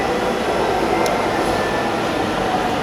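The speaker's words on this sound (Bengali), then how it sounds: "তো গাইস, আমাদের ট্রেন চলে আসছে" A metro train pulls into a station with a steady, broad rumble and hiss, a continuous mechanical drone that stays constant throughout, with a brief faint high tone near the middle.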